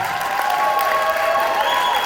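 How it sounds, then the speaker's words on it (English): Theatre audience applauding the student cast on the closing night of a Cinderella stage show, a steady wash of clapping with some tonal sound running underneath throughout. "Can we just give them an applause?"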